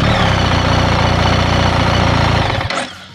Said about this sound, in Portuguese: Você ligou a moto, certo? Aqui já dá partida aqui.